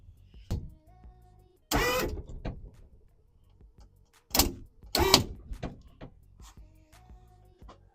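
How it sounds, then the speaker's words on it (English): An electric lowrider hydraulic pump run at 24 volts whines in short bursts with mechanical clunks in between, raising the car's left side up close. "I'm going to raise this left side up."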